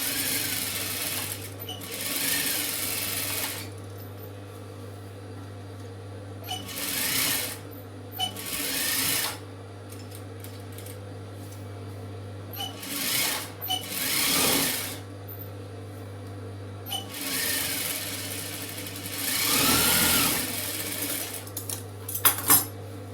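Sewing machine stitching the front panel of a chudidar, several bursts of rapid mechanical stitching over a steady motor hum, with quiet gaps and small clinks of tools in between.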